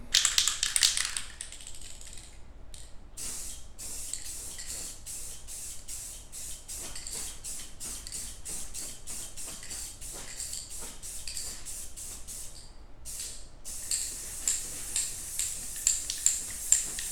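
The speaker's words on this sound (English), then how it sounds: "let's get to spray painting." Aerosol spray can hissing in rapid bursts while painting an aquarium background, with a loud opening spray, a long series of short rhythmic puffs, then another sustained stretch of spraying, close and without talk.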